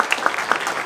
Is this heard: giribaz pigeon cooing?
no